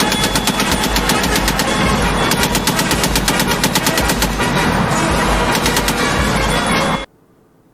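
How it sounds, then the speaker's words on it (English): A .50 caliber machine gun fires a long sustained burst of rapid, evenly spaced shots, very loud and close, then cuts off abruptly into near silence. "It's a machine gun!"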